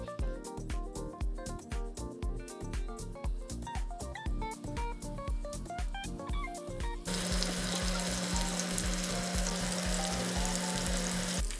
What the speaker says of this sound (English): Fry them in batches over medium heat